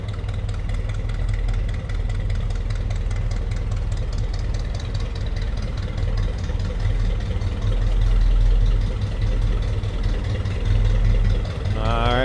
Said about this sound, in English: A little rumble coming out of that small block Chev.